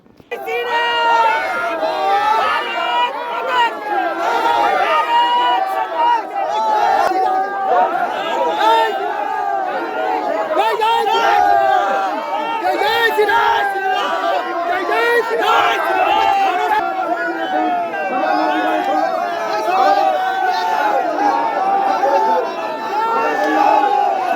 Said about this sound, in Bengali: ব্যারিকেড না ভেঙে সেখানেই বিক্ষোভ শুরু হয় বিজেপির।